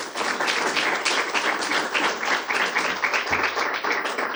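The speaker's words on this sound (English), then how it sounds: "Let's give Madhuri one more big round of applause." An audience applauds after a presentation at a workforce training forum, a dense, steady burst of many hands clapping close and loud throughout.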